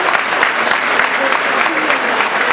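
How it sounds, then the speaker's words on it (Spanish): A crowd at a municipal launch of a city's 125th anniversary celebrations applauds steadily, a dense continuous wash of clapping filling the space without a break. "así que pido revalidar ese aplauso"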